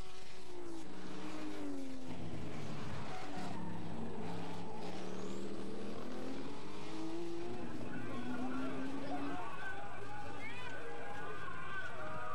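Porsche race cars at Le Mans in 1976, engines rising and falling in pitch as they pass at a distance, with a voice commentating over the racing noise throughout.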